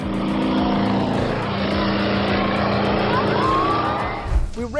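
A propeller plane drones loudly and steadily as it banks through a 180-degree turn in flight. The engine note shifts slightly, with a brief rumble and a rising whine near the end.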